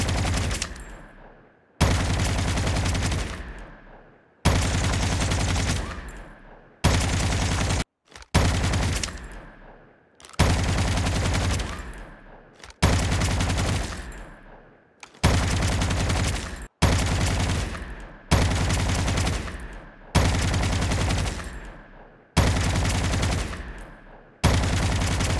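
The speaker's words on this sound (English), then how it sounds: "when you starts firing, your gun will starts firing without waiting for scope animation" Repeated gunfire bursts from guns in the mobile shooter COD Mobile, about ten loud sharp volleys in quick succession, each cracking on and tailing off, with no voices.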